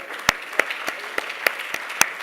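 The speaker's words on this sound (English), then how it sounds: "I want to personally clap to the media people" Sparse audience clapping at a conference session on breakfast, a few separate loud claps at an uneven pace over a quiet room background.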